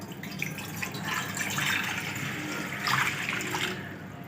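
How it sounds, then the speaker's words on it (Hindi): One litre of water pours into a wok (kadhai) on a stove, a close, continuous splashing gush that swells and surges in the middle and tapers off near the end. "पानी डालेंगे 1 लीटर।"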